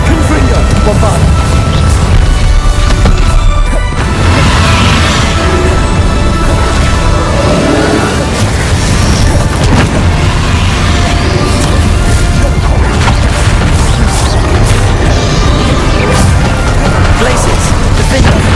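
Confringo and Bombarda spell explosions from Hogwarts Legacy keep going as loud booms, crashes and whacks in a dense battle din. Spell names are called out over the top now and then.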